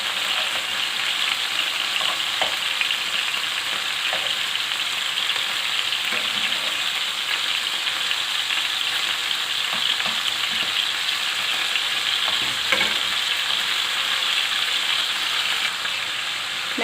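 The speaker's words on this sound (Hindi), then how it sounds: "बस इसी तरह से हम इनको फ्राई कर लेंगे जी" Beef kebabs frying in a pan, a dense, steady bright sizzle throughout with scattered pops and light scraping as they are turned.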